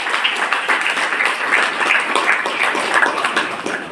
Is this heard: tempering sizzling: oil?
no